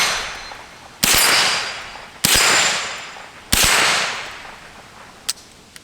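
A Smith & Wesson Response pistol-caliber carbine fires three loud, sharp shots at targets about a second apart. Each crack rings off into a long fading echo, and a small metallic click follows, with no speech.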